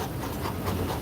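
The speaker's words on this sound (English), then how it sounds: "he is panting because he is exercising." A dog pants quickly and heavily while exercising on a run, close and continuous for a brief moment, with no talking.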